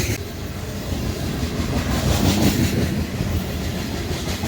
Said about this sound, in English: This train has 86 loaded cars of grain.